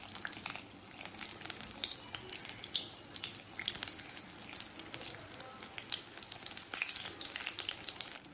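Batter-dipped eggs frying in hot oil for egg bonda, a soft, steady crackling sizzle with scattered pops, fairly faint and continuous with no talking.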